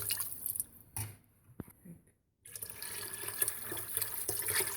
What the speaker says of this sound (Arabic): هلا حطينا مي